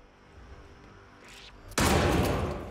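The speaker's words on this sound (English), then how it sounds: "Still need to get a shotgun kill. All right. I'm gonna grab my shotgun. Shotgun kill time." A single heavy shotgun blast in the stealth game Hitman 3 cuts through quiet ambience, close and loud, with a long, rumbling decay.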